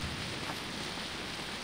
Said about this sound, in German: Es regnet auch noch.